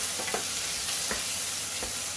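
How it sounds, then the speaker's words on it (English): Mussels with tomato and ginger sautéing in a stir-fry pan: a steady close sizzle runs throughout, broken by a few short scrapes and taps from a stirring utensil. "Saute them first."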